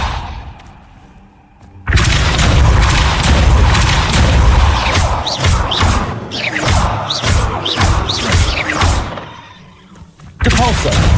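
A loud, dense blast of magical impact rumbling and crackling for several seconds in Hogwarts Legacy, as the Depulso spell fires, then fading before a second burst begins.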